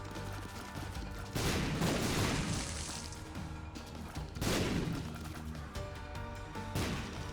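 Bombs exploding in a roguelike video game: two heavy, broad blasts a few seconds apart, each with a rumbling tail, over constant game music.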